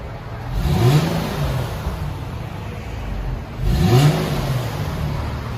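Stock 2013 Infiniti G37x 3.7L V6 with dual exhaust, two resonators and two mufflers is revved twice, rising and falling; each burst is subdued and fairly quiet, heard from close by over a steady idle.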